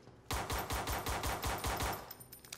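Rapid automatic gunfire from a rifle in the shooter game America's Army, about a dozen loud, evenly spaced shots in a steady burst with no talk over it.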